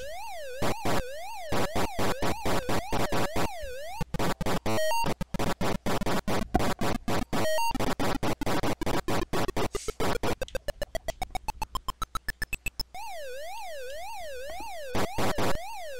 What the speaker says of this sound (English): It's got the little siren in the back.